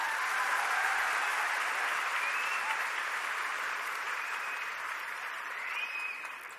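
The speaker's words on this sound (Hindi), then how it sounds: "ऐसे गुरु सुबोध सर और प्रवीण सर के लिए जोरदार तालियां।" A large audience claps loudly and steadily at a gathering honoring teachers, a dense, sustained wash of applause that slowly fades toward the end.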